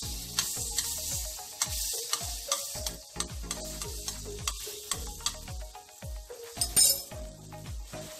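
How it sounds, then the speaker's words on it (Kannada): A spoon of butter melting in a pan, with a steady sizzle and repeated clinks of a spoon stirring against the metal, close and without talk. "ಬಾಂಡ್ಲಿಗೆ ಒಂದು ಸ್ಪೂನು ಬೆಣ್ಣೆ ಹಾಕಬೇಕು. ಬೆಣ್ಣೆ ಸ್ವಲ್ಪ ಕರಗಿ"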